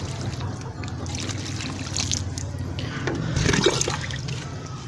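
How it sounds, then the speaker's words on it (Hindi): Water trickles and splashes steadily as it is poured into potting soil in pots and grow bags before seeds are sown, a close, continuous gurgle with a slight swell near the end. "तो पानी हम देते हैं मिट्टी के अंदर, और पानी इतना देंगे कि जितना हमारी मिट्टी अपने अंदर जज़्ब कर ले।"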